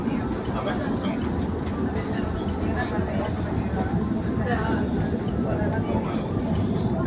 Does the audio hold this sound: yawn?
no